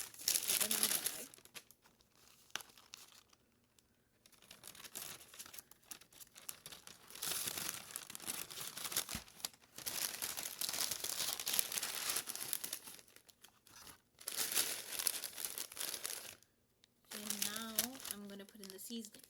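McDonald's fries are dropped into a paper bag, bringing loud bursts of paper crinkling and rustling with short pauses between them, close by, and a voice talks briefly near the end.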